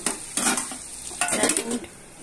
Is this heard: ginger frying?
yes